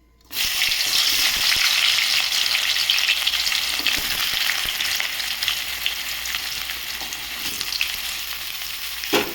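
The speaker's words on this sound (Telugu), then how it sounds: "ముందుగా కట్ చేసి పెట్టిన కాకరకాయ ముక్కలు అయితే ఇందులో వేసేసుకుందాం" Pieces of bitter gourd drop into hot oil and burst into a loud, steady sizzle that fills the whole stretch, easing off only slightly toward the end, with no voices.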